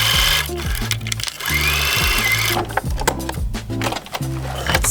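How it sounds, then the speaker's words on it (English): A sewing machine running a straight stitch over an overlock seam while sewing underwear, loud close rapid mechanical whirring in steady runs with a brief pause and restart. "I'm just sewing it with the straight stitch on top of the seam and stretching it."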